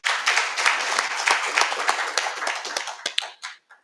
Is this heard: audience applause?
yes